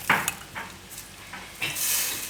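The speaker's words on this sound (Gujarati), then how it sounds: "તો આપણે થોડુંક ટમેટો કેચઅપ લીધું હતું એ નાખી દેવું" Tomato ketchup poured into a pan of sizzler sauce, giving soft sizzling and stirring with a few brief louder bursts, close and moderately quiet, no voices.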